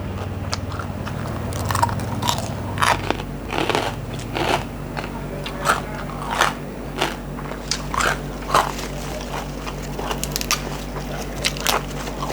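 Someone crunches and chews Thai som tam papaya salad mixed with fresh herb leaves, close and loud, with steady crisp bites repeating about every second over low background hum.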